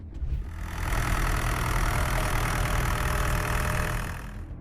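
A David Brown 990 British tractor engine runs steadily at close range, a loud continuous mechanical drone with no voices over it.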